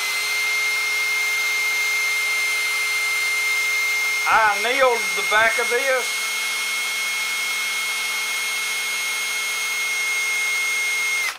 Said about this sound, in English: Now when I'm drilling this, you don't want to drill wide open.